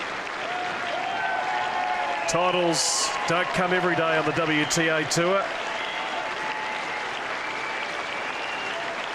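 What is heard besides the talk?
tennis crowd standing and applauding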